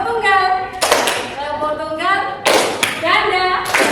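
A group of students in an Indonesian classroom clapping the Scout single clap (tepuk tunggal pramuka), sharp collective claps in short bursts that cut in between a teacher's voice, which carries loud and close throughout.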